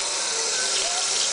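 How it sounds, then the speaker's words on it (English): Running water from a bathroom sink tap as hands are washed with homemade soap, a steady close hiss of flowing water with no pauses. "I want to show you how I wash my hands."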